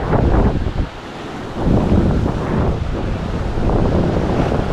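Sea waves break against a rocky Konkan shoreline, a loud, continuous rushing wash with surges rising and falling, mixed with gusty wind buffeting the microphone and no voices.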